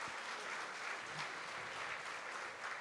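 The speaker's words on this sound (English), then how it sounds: "can we give a round of applause to Enbridge for sponsoring the lunch today?" An audience at a State of the City luncheon gives a round of applause, a steady wash of many hands clapping at moderate distance, unbroken and even throughout.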